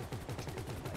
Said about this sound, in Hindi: 20 गोली दाग रहा हूँ पर सेकंड की रफ्तार से